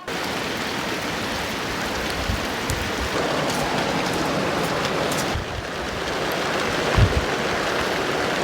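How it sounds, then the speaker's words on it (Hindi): Heavy monsoon-style rain pours steadily outdoors in a hilly town square, a dense continuous hiss of large drops hitting the ground and surfaces, with occasional louder splashes and no talking. "झमाझम बारिश अभी लगनी शुरू हो गई है"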